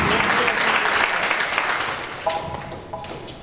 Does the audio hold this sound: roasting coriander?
no